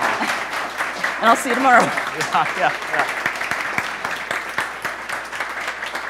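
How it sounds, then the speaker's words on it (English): Audience applause closing a Duo Tech Talks session, a steady wash of clapping with a voice speaking over it near the start. "So let's all give Susan a round of applause"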